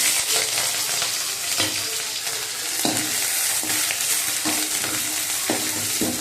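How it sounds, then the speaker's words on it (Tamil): Onions and green chillies fry in a pan for a vallarai keerai poriyal, giving a steady loud sizzle with periodic scrapes and stirs of a spoon against the pan, no voices. "இதை நல்லா பொன்னிறமாக வெங்காயத்தை வறுத்துக்கணும்."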